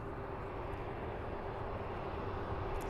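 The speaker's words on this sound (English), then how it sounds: "It's only a Ryanair, we've seen them all day long." A Ryanair airliner passes at Birmingham Airport, heard as a steady, fairly faint and distant engine roar that holds evenly throughout, with no talking.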